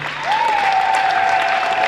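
A church crowd at a TAG Mbezi Galilaya women's celebration claps loudly and steadily for nearly two seconds, a dense, continuous roar of hands with a thin sustained whistling tone running over it.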